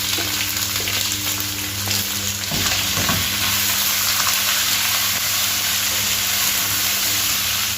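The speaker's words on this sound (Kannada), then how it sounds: "ಮುಚ್ಚಳವನ್ನು ಮುಚ್ಚಿ ಫ್ರೈ ಮಾಡ್ತಿದ್ದಾರೆ" Chicken masala with onion, cumin, red chilli and whole garam masala frying in a covered pan, a steady loud hiss and sizzle with a faint clink of the lid partway through.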